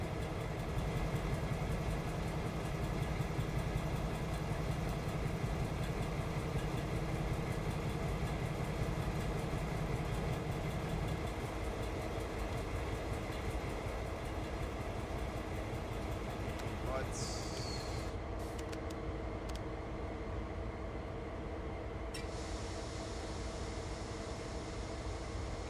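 An old train's diesel engine in Train Sim World 5 runs with a steady deep idling drone and rumble for the whole stretch, its pitch shifting partway through, with someone talking over it.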